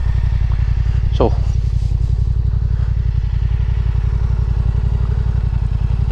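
Yamaha Tenere 700 motorcycle engine riding on the Duke's Pass in Scotland: a loud steady rumbling drone at constant pace, close up, with a rider talking over it.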